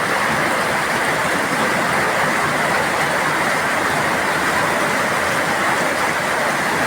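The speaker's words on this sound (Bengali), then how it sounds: "কিরকম শব্দ বৃষ্টি" Steady, dense rain pours down without a break, a loud even hiss filling the whole stretch with no voices.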